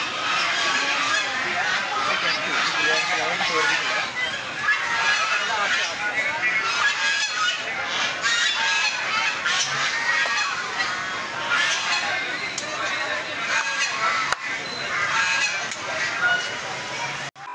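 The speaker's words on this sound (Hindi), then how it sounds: "अब हम चलते हैं जहाँ बत्तखें हैं।" A flock of ducks honks and quacks continuously, a dense, raucous chorus of many birds close by at a fair beside a dargah, with a faint murmur of people behind.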